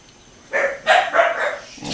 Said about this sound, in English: My dog's barking. Actually, it's my daughter's dog. She's got two dogs. Dachshunds.